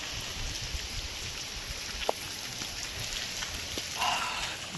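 Steady monsoon rain patters in a faint, continuous wash, broken by a couple of brief knocks and a short tonal sound near the end.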